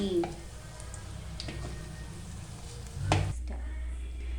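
A sweet fries in hot oil in a pan and gets turned over, a soft steady sizzle broken by a few clinks and scrapes and one louder knock near the end, with no talking.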